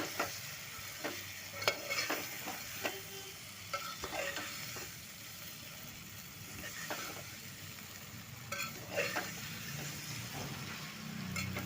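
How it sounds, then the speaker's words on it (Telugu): Okra pieces stirred and fried with chili powder in a pan for a curry, a steady sizzle broken by irregular scraping strokes of the spoon, close and moderately loud with no talking. "ఇలా బెండకాయలు మొత్తం వేసుకొని బాగా కలుపుకోండి"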